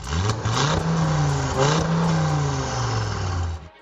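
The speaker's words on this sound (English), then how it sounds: "That 5-cylinder sound, pure Audi sport heritage." An Audi TT RS five-cylinder engine revs hard and close, its pitch climbing and falling in a couple of sustained sweeps before cutting off at the end.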